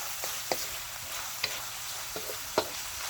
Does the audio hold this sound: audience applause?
no